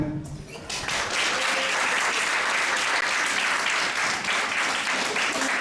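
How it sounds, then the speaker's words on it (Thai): Loud, sustained applause from a crowd at a closing ceremony, breaking out after a moment and continuing steadily to the end. "ขอเสียงปรบมือ"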